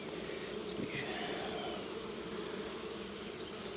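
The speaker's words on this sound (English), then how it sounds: "there's some bees on there" Honey bees buzz around a honeycomb super on a hive, a faint, continuous, even hum with no voices.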